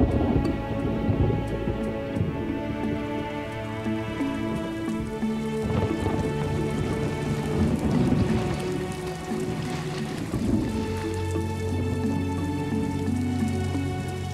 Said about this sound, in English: The last few days have seen violent storms moving in swiftly and suddenly.